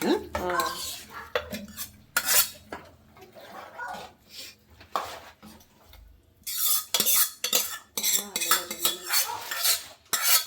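Cooked rice is stirred into cooked vegetables and lentils in a pot for bisibele bath. A metal spoon clanks and scrapes against the vessel in busy, uneven bursts with brief pauses, close by and without talk.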